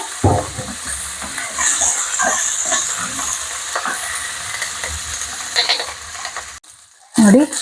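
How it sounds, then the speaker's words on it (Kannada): Chopped brinjal, capsicum and curry leaves hit hot oil in a pan for a vangibath, giving a steady, close sizzle and hiss with stirring clatter, then a brief pause and a sharp louder burst near the end. "ಈ ಸಂದರ್ಭದಲ್ಲಿ ನಾನು ಹೆಚ್ಚಿಟ್ಟುಕೊಂಡಿರುವಂತಹ ಬದನೆಕಾಯಿ, ಕ್ಯಾಪ್ಸಿಕಮ್ಮು ಹಾಗೂ ಸ್ವಲ್ಪ ಕರಿಬೇವನ್ನು ಕೂಡ ಹಾಕ್ತಾ ಇದ್ದೀನಿ"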